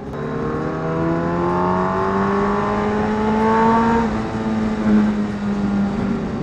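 An inline-four motorcycle engine revs hard nearby, a smooth rising whine climbing in pitch and then easing back into a steady high drone, loud and alone without talk.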